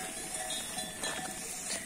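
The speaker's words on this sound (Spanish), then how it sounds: "echando de comer las ovejas." Faint cowbells clink steadily as a flock of pregnant ewes is fed, a soft, continuous tinkling with distant livestock noise and no talking.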